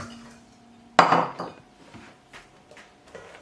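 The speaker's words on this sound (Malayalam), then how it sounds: "ഒരു പാത്രം എടുത്തിട്ട് ഈ ബ്രെഡും ബാക്കിയുള്ള ഈ ഇൻഗ്രീഡിയൻസും കൂടിയിട്ട് മിക്സ് ചെയ്യാം" Bread, potato and spices are mixed together in a bowl. A sharp metallic clatter of a utensil against the bowl is followed by a few faint, scattered scraping knocks.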